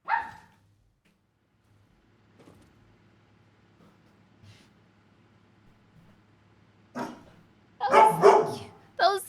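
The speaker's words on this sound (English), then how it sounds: "That was the cutest bark ever." A pet dog barking indoors, a short bark near the start and then a burst of several loud yips and barks close by near the end, with quiet room noise between.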